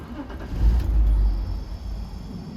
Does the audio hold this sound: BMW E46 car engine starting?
yes